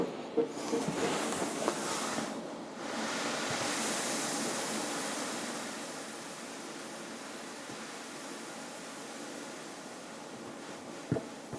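About 13.5 kilos of pale ale and caramel malt poured into a brewing vessel: a steady, loud granular hiss of grain streaming in for several seconds, gradually tapering, with a few soft knocks at the start and end.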